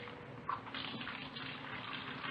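Tap water runs steadily into a kitchen sink during dishwashing, a radio drama sound effect, forming a continuous faint wash with a small splash near the start and no voices.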